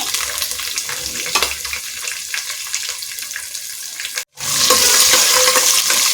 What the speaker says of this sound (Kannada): ಸಾಸಿವೆ ಚಿಟಪಟ ಅನ್ನುವಾಗ 2 ಚಮಚದಷ್ಟು ಗೋಡಂಬಿ, ಕರಿಬೇವು ಸೊಪ್ಪು, 2 ಹಸಿರು ಮೆಣಸಿನಕಾಯಿ ಒಗ್ಗರಣೆ ಮಾಡ್ಕೊಳ್ಳೋಣ